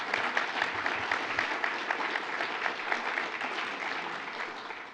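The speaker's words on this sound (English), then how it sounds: "a round of applause for Matthew" An audience applauds a person being honoured at a gathering, a moderately quiet, continuous wash of many hands clapping with a few sharper claps standing out.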